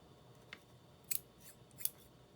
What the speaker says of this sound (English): Let's cut that shorter.